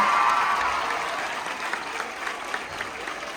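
Applause at an official Constitution Murder Day 2025 ceremony in Diu greets the district collector arriving as chief guest, a dense sustained clapping from a crowd that slowly tapers over a few seconds.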